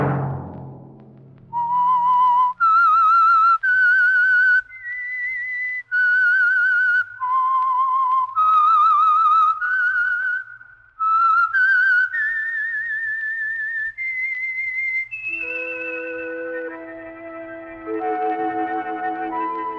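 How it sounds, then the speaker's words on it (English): A whistled theme tune signals The Whistler, a 1948 Signal Oil radio drama. A clear, echoing melody of sustained notes plays alone, then gives way to held orchestral chords near the end. "Let that whistle be your signal for the Signal Oil program, The Whistler"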